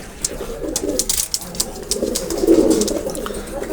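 Teddy pigeons coo softly in a loft, a low throaty burbling repeated under someone talking close by.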